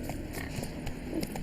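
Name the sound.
horse Roach galloping in The Witcher 3 video game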